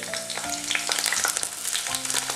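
Garlic and ginger fry with fennel seeds in hot coconut oil for a Kerala egg roast, a close, continuous crackling sizzle with scattered spattering pops and no speech.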